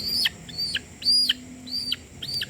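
Chickens cluck repeatedly in short, high, rhythmic calls, close by, while being vaccinated against coryza, with a low hum in the background and no talking.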